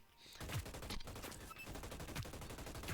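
Ripper assault rifle in the video game Hyper Scape, fired in dense, continuous automatic bursts that blur into a rattling, noisy stream, fairly faint overall.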